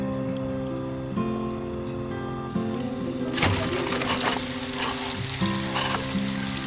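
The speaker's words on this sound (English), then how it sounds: "nice serving of calamari ready to be fried up" Fresh-caught calamari squid rings frying in olive oil, giving a steady close sizzle that grows busier and more crackly partway through, with no talking.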